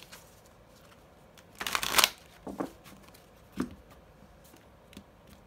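Gem Archangel oracle cards are shuffled by hand in a short, crisp riffling burst, followed by a few lighter card taps and slides, close and quiet with no talking.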